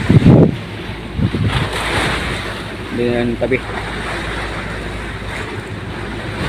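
A boat moves over open water, with wind buffeting the microphone and waves washing around it. A voice speaks briefly near the start.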